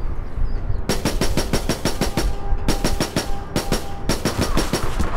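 Gun firing in the video game APB Reloaded, loud rapid automatic bursts of evenly spaced shots in three or four strings with short pauses between them, close and alone.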